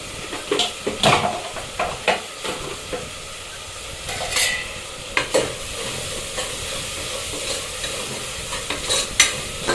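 Tomatoes sprinkled with salt frying in oil for egg biryani, a continuous crackling sizzle with repeated spatula scrapes and knocks against the pan, close and fairly loud, no talking.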